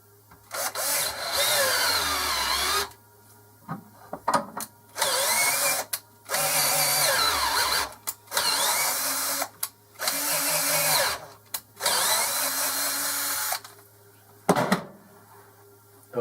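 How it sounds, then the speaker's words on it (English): Cordless drill on slow speed driving an 8mm tap to cut a thread, running in repeated whirring bursts of a few seconds each, separated by short pauses, close and fairly loud. "You're going to use your drill to do this."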